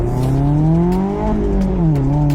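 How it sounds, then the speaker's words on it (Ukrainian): A Mazda MX-5 fitted with a Lamborghini Huracán exhaust revs loudly up close, its engine note climbing, dipping briefly and rising again in a deep, continuous roar. "Я встановив вихлоп від Lamborghini Huracana в мою мазду."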